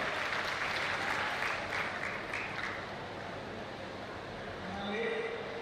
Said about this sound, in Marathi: प्रचंड टाळ्या वाजवा, प्रचंड टाळ्या वाजवून सगळं स्वागत करा